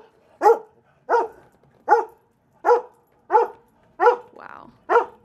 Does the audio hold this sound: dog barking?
yes